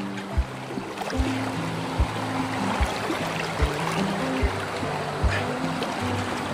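Strong stream water rushes through a forest, a continuous broadband wash of flowing water with low knocking thuds recurring roughly every second, moderately loud and without speech.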